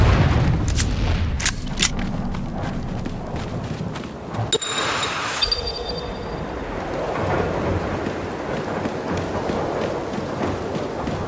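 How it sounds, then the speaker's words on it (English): A grenade blast in the game Dune Awakening hits as a sharp booming burst midway, preceded by scattered impacts and followed by a long rumbling, noisy tail of combat ambience. "our friend coming from above and throwing out one more grenade"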